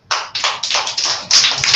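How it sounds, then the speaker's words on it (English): Children clap in a steady series of sharp, close hand claps, several quick beats in a row in a classroom setting. "A Clap for yourself."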